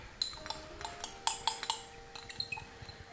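A metal teaspoon clinks and taps against a glass jar of apple sauce, a quick run of light, bright knocks close by in a quiet kitchen.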